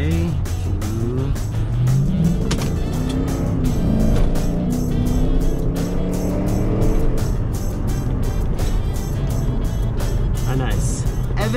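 A BMW E92 M3 pulls away and accelerates on a road, its engine note rising in pitch through the gears in a steady, loud drone from inside the car, with someone talking over it.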